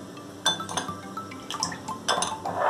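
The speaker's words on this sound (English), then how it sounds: "Corn flour, water, mix well." Corn flour being stirred into water in a small bowl for a schezwan vegetable sauce, giving a few close, light clinks and scraping taps of a spoon against the dish, irregular and quiet, with no talk.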